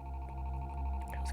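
A telephone rings in a Five Nights at Freddy's fan game set in an 1980s arcade, a steady electronic ringing tone with a brief bright chime burst at the end, loud and alone.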